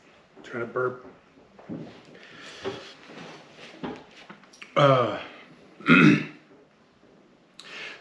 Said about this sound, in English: Trying to burp.